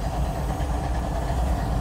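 Several former Santa Fe diesel locomotives, now in BNSF service in war bonnet paint, idle together with a steady, low rumbling drone and faint mechanical knock, close by and continuous with no talk.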